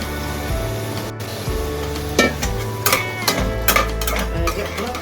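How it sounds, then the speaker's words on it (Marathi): Two large chopped onions stirred in hot oil in a pan for a cashew prawn masala, a steady close sizzle broken by repeated scraping stirs and clinks of the spatula, with no talking. "तर कांदा चांगला परतून घेऊया आपण"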